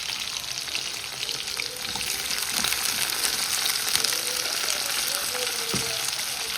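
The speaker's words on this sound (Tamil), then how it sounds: "எண்ணெய் கொதிச்சுட்டு நான் அதில் சின்ன வெங்காயம் தான் சேர்த்துருக்கிறேன்" Shallots, garlic and green chilies fry in hot oil for a Jaffna-style bitter gourd dish, giving a steady, dense sizzle with faint crackles throughout and no voices.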